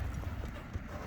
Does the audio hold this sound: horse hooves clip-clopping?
yes